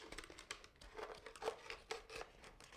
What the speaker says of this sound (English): I'm going to take this washcloth and I'm going to actually cut it into 4 pieces